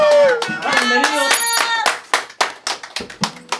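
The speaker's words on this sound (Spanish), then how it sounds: "aquí un aplauso para los chiquillos." Audience claps ring out at a small live show after someone speaks, a few sharp, close hand claps scattered through the last second and a half.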